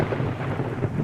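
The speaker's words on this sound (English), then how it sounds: "At least you consistently get thunder here." Loud, continuous rumbling thunder in the video game 7 Days to Die, filling a brief stretch with a dense, steady roar and no talk over it.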